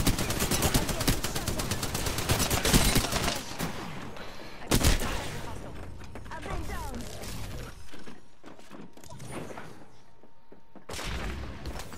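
Heavy gunfire in Apex Legends: rapid automatic bursts and sharp single shots crack at close range, with glassy shattering impacts. Firing thins out midway, then returns in scattered shots over quieter stretches.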